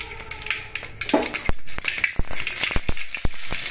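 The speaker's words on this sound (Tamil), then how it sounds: "எண்ணெய் காஞ்சதும் கடுகு போட்டுக்கலாம்." Mustard seeds in hot oil in a pan sizzle softly while sharp individual pops and crackles burst out at irregular intervals, close and crisp.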